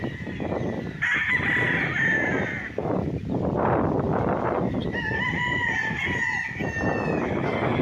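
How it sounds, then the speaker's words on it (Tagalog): Roosters crow repeatedly amid clucking chickens on a rural farm lot in Pagsanjan, Laguna, with loud overlapping cock-a-doodle-doo calls near and farther off over a constant bed of flock noise. "Marami pa silang mga manok dito."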